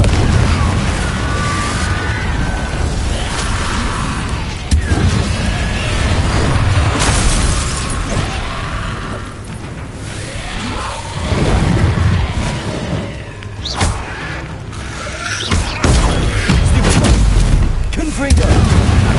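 Confringo explosive spells blast repeatedly in Hogwarts Legacy, loud booms and bursts recurring across a chaotic battle din, with a voice heard at points amid the noise.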